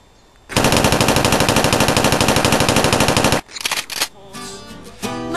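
Video game machine gun fire rips out in a long, loud, rapid burst of evenly spaced shots for about three seconds, then a few short bursts and clatter follow.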